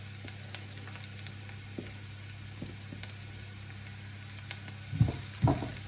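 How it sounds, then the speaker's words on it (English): Chopped garlic dropped into a pan of softened onions for a vegan Galician chickpea stew, a steady close sizzle with faint scattered ticks, then a couple of louder scraping stirs near the end. "Now we'll add the garlic, chopped garlic."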